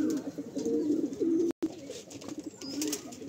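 Male pigeons in a loft coo close by in low, throaty, repeated phrases that overlap steadily, with a brief dropout partway through.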